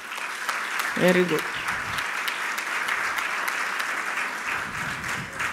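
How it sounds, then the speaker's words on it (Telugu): A church congregation at a Sunday service claps together in a sustained, fairly close wave of applause, with a voice briefly speaking over it near the start. "చప్పట్లు కొట్టండి."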